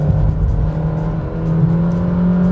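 A Renault Logan 2020 sedan with a CVT gearbox revs to about 2000 rpm, a steady, close engine drone holding a constant pitch with no talking.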